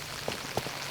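Rain falling steadily on the ground during a disc golf round, a dense, even hiss with a couple of louder drops hitting nearby.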